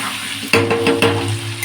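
Potatoes frying in hot oil with a little turmeric, a steady close sizzle with a few sharp stirring scrapes and clinks of the utensil against the pan.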